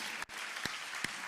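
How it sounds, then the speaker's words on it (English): Applause from an audience at a four-day Treaties 1-11 gathering, a brief burst of steady clapping. "let's give Ovid and Lisa, as well as Karen, a round of applause for doing a wonderful job here."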